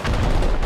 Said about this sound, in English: I'm rocketing this next loot room.